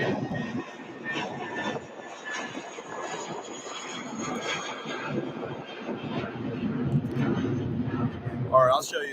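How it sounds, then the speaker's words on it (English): A United Airbus A320 jet roars on takeoff at Louisville airport, a broad engine rumble holding steady and swelling, with a person talking over it. "this United Airbus A320 takes off going to Denver, Colorado"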